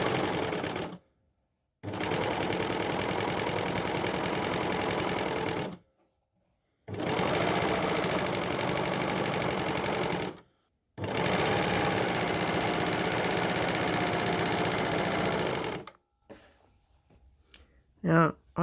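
Overlocker serger stitching a T-shirt seam and trimming the fabric edge, in three long steady bursts of rapid mechanical whirring separated by short pauses, close and loud, with handling noises at the end.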